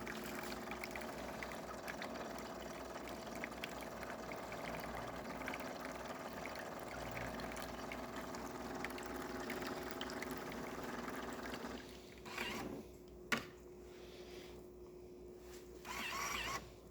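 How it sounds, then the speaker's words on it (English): Water runs in a steady, faint stream from the spout of a Jura Impressa A9 coffee machine, a continuous trickle with a few small knocks near the end. "nice steady stream coming out of the spout"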